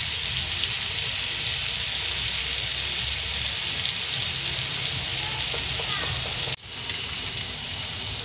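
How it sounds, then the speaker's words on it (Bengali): Yardlong beans frying in hot oil in a wok make a loud, continuous sizzle that runs steadily, then drops out abruptly and resumes slightly quieter near the end. "কড়াইতে তেল দিয়ে দিয়েছি, এবার এই বরবটিগুলোকে আমি দিয়ে দেবো। এগুলোকে আমি ভেজে নেব।"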